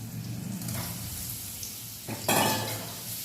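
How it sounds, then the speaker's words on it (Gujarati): Potatoes frying in oil in a pan with a few grains of sugar for a dry potato sabzi: a soft, steady sizzle with light stirring, then a brief louder clatter of utensil against pan near the end, with no speech. "આ બટેટા ઘડીક વાર તેલમાં ખેંચાય"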